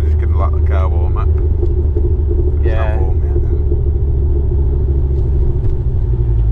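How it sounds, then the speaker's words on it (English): A 900 bhp car idling as it warms up in wet conditions, a steady loud low rumble that runs throughout while someone talks over it. "We're just going to let the car warm up."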